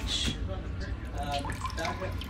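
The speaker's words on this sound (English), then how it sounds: "That dripping sound was definitely coming from the engine room" Water drips and trickles close by in a vintage sailboat's enclosed engine room over a steady low mechanical hum, with faint murmuring voices in the background.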